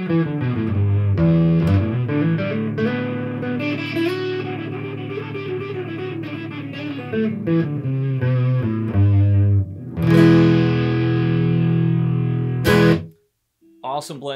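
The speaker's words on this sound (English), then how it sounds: "Awesome blended tone using the distortion through electric and clean through the acoustic without any effects on it." A full, thick PRS Hollowbody II guitar tone plays a steady riff, gritty distortion through the electric pickups layered with clean, effect-free piezo acoustic sound, loud and close, stopping abruptly near the end.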